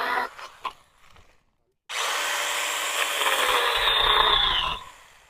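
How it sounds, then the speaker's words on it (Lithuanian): A Stihl brush cutter's engine whines up loudly and steadily as it cuts sumac down at the base, running for about three seconds before dropping away, with a few rustles and knocks before it starts. "Nu, tai gerai, kaip palei apačią pjaunam,"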